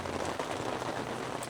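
Steady rain falls on a surface in the Montana mountains, a dense, even patter with no voices.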